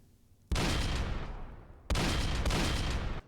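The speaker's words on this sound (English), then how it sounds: "I was trying to shoot some guys at range." Gunfire in the video game Dead Rails, two long loud bursts of rapid shots, the first running about a second and a half and the second after a short gap, close and dominating.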